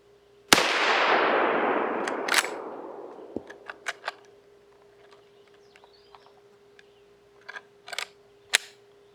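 An original Winchester 1886 lever-action rifle fires a single sharp, loud shot with a long rumbling echo trailing off, followed by clicks and clacks of the lever action and handling, with no talking.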